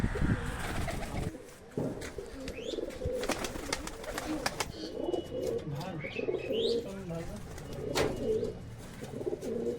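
Golden female high-flying pigeon at a home loft in Katwa, with steady cooing from nearby pigeons and sharp wing-flap bursts. A voice talks faintly at times.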